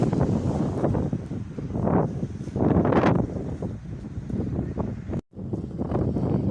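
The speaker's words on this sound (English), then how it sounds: "Quite a bit of wind." Strong wind at a beach shortly after sunset, buffeting the microphone in a steady loud rush with gusting swells and one brief dropout.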